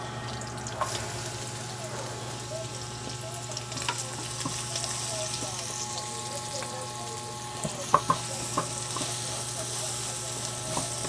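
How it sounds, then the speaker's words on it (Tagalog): Garlic sautéing in a pan for laing, a steady low sizzle running throughout with occasional soft clicks of stirring, fairly quiet and alone. "igisa natin ang bawang"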